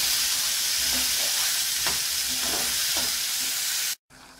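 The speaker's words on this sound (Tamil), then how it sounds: "இப்போ 1 வெங்காயமும் கருவேப்பிலையும் அரைச்சி வச்சிருக்கிற பச்சை வாடை போக வதக்க போறேன்." Ground onion and curry leaf paste sautéing in a pan, a dense steady sizzle with a few soft stirring scrapes, cutting off abruptly near the end.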